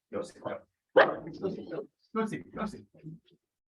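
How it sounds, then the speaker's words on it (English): A dog barks in quick bursts, several sharp yaps close by, heard during a group coaching session. "Crazy dog."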